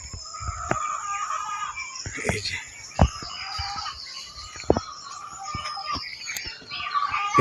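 Chickens at a poultry farm cluck and crow repeatedly at fairly close range, with several overlapping calls and sharp bursts scattered over a continuous barnyard chatter, and no talking.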